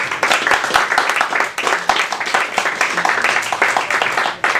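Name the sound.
audience applause for comedian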